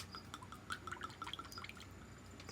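Hard Truth liqueur being poured into a glass, a soft trickling, dripping pour that runs steadily for a couple of seconds, close and quiet with no talking.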